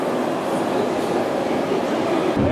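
A metro train runs through the Nizhny Novgorod subway, a steady dense rumbling roar of wheels and motors close by, sustained throughout before an abrupt change near the end.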